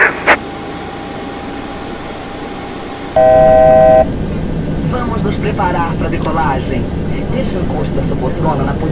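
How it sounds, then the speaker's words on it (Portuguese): Boeing 737-800 pushback in the X-Plane 11 flight simulator, Gol livery at Porto Alegre: a steady broadband rumble of aircraft ground noise, with a brief tonal chime partway through, running under a voice throughout. "Iniciando o pushback e se o senhor quiser já pode acionar os motores."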